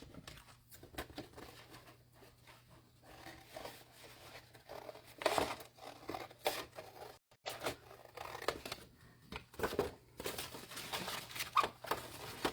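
Scissors snip through paper while cutting a square and small triangle from a sheet, producing quiet irregular clips and rustles with brief pauses, close and soft.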